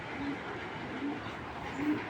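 Racer pigeons give three soft coos spaced across about two seconds, low and fairly faint over a steady background hiss.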